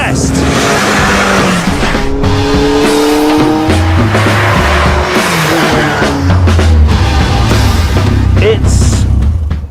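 A Caterham 7 R500 Superlight track car drives hard, its loud engine revving up and down through gears with tires squealing and skidding, close and dominant throughout.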